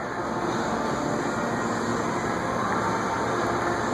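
A subway train gives a loud, steady rumble and roar that stays even and unbroken throughout, close by with no voices.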